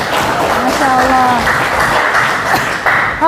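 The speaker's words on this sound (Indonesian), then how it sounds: "Kita beri tepuk tangan dulu." Continuous applause fills a classroom, with a voice speaking over it and briefly rising above the clapping.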